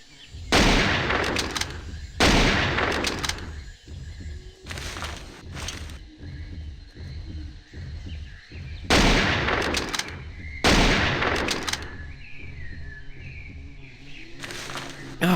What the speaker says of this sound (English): Used a lot of the shots with the rifle, though.